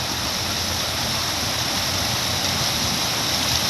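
Loud, steady rush of a waterfall in a forest, a dense continuous roar with no pauses.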